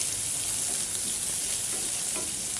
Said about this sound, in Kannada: ಇದು ಸ್ವಲ್ಪ ಚೆನ್ನಾಗಿ ಫ್ರೈ ಆಗಬೇಕು ಎಣ್ಣೆಲಿ.